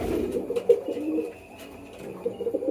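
A pet pigeon cooing near a person's hand, a string of soft, low coos repeating in an uneven rhythm, close and fairly faint, with a quiet lull midway.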